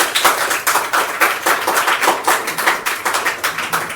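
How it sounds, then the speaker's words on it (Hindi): An audience claps loudly in quick, rhythmic unison, each sharp clap close and distinct, keeping a brisk, even beat from start to finish. "मैं चाहती हूँ एक बार तहे दिल से हमारे महागुरु संतोष सर के लिए एक बार जोरदार ताली हो जाए"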